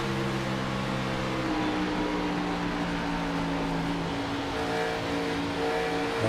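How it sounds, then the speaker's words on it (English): A race car engine drones steadily in a sim racing league video game, alone and fairly loud, its pitch shifting slightly as the throttle is applied. "you can listen to the throttle application here"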